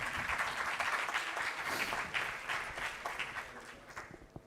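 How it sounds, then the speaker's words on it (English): Audience applause in a lecture hall before a talk by a Cambridge professor on sustainable development: sustained clapping from many hands that holds steady, then thins out and tapers toward the end. "I hope I get that much applause for my lecture."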